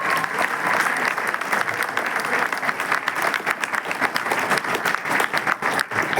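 An audience at a gathering claps steadily and densely for several seconds, a continuous, fairly loud wash of applause with no pauses.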